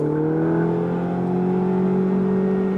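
Ferrari engine revving as the driver accelerates on the Issoire track, a loud close tonal drone whose pitch climbs steadily for about three seconds, with no voices.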